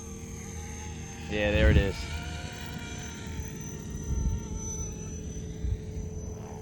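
A GPS RC helicopter flies nearby with a steady high rotor whine and buzz, while people talk over it in brief remarks.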